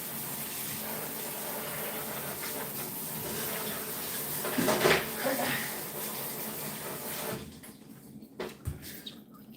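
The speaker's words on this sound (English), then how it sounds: "I'm literally just taking the sprayer and spraying them off" A water sprayer hisses steadily against dishes, with a few clatters near the end as the spray cuts off.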